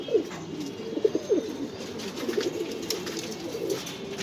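Damascene pigeons at a pigeon farm give soft, repeated coos in a steady rhythm against a low background hum, heard close by.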